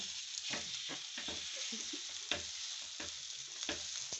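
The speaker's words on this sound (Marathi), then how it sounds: "उकडलेले जे बटाटे आहेत हे असे बटाटे आपण त्यामध्ये टाकायचे बटाटे याच्यामध्ये मिक्स करून घ्यायचे स्नॅश करून घ्यायचे" Boiled potatoes being mashed and mixed into a pan of masala for bread pattice, heard as soft, irregular squishing and scraping strokes over a light steady sizzle, close by with no talking.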